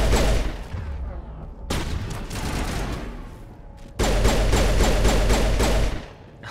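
Shotgun fire in the video game Mass Effect Legendary Edition sounds as loud, dense bursts of blasts and booming impacts. The bursts are broken by brief gaps and close with a sustained heavy volley, with no voices.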